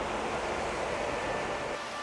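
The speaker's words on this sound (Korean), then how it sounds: "깊은 계곡에 흐르는 청명한 물소리" Clear water flowing through a deep mountain stream in the Jirisan valley of Sancheong, producing a steady, dense rushing wash at close range with no pauses.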